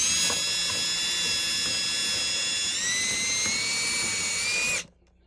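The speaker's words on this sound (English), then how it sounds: "I'm just going to drill like 4 holes in the bottom of these cups." A normal drill with an ordinary bit bores holes through the bottom of plastic growing cups, a steady high whine held close and loud for nearly five seconds, its pitch rising partway through before the motor cuts off abruptly.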